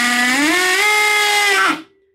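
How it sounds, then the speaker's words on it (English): Hammer drill driving a screw straight through timber, a single loud whining motor tone that rises in pitch as it spins up, holds steady, then cuts off sharply at the end. "hammer drill on, drive it straight through."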